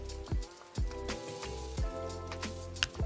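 Rain falls steadily on a car, with scattered drops ticking and pattering against the body in a soft, continuous wash, no voices present.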